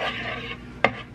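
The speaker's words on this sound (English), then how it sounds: "You mix that up." A spoon scrapes through brownie batter with an egg being mixed in, giving a short, soft stirring swish that ends in a sharp clink against the bowl.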